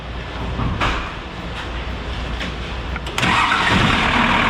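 A Ford F100 engine, fitted with an upgraded starter, cranks quickly and fires up, ending in a loud steady idle with no voices.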